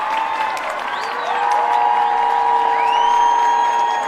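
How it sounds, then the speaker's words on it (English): Fans at an Archbishop Mitty vs Bellarmine College Prep boys high school basketball game cheer and shout in a gym, making a loud continuous crowd roar with rising whistle-like tones and a commentator's voice underneath. "Mitty fans starting to cheer a bit louder here"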